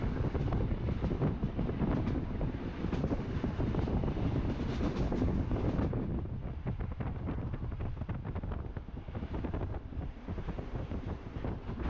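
Night train rolling through Cameroon, a steady loud rumble of wheels and carriage with wind buffeting the microphone, easing slightly partway through but continuing throughout without talk.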